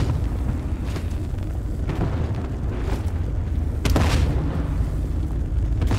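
Grenade blasts in the video game The Cycle Frontier: deep rumbling booms that roll continuously, with a sharper burst near the middle, loud and close, no talking.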